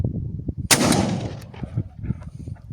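A Benelli Ethos Sport shotgun fires a single loud, close blast outdoors, followed by a rolling echo that fades over about a second.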